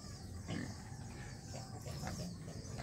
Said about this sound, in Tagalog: ito yung bulugan natin na isa.